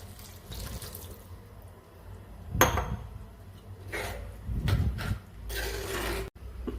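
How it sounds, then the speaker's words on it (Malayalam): Tamarind water is poured into a pan in several splashing bursts, with clinks of a pan or utensil between pours and a low hum underneath. "പുളിവെള്ളം ഒഴിച്ചു കൊടുക്കാവേ പുളിയും വെള്ളവും"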